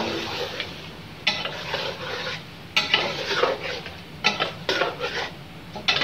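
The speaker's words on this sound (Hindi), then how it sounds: "अब हम इसके अंदर जौन सा पेस्ट बनाया था प्याज का और दही का वो शामिल कर देंगे और इसे मिक्स कर लेंगे।" Fried chicken is stirred with an onion and yogurt paste in a pan, with a soft sizzle beneath repeated scraping and clinking of a spoon against metal in irregular bursts.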